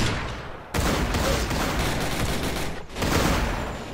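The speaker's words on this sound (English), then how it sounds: "The auto cannon in its natural habitat." Auto cannon firing in the video game Zeppelin Wars, a dense, rapid stream of loud shots in sustained bursts with two short breaks.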